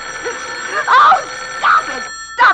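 Telephone bell ringing in a radio drama, with a few short bursts of ringing at a steady pace, close and fairly loud, over a faint background hum.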